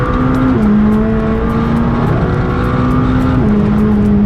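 A McLaren 600LT accelerates hard while merging onto a motorway, a loud, steady engine roar rising in pitch through two gear shifts, heard from inside the car.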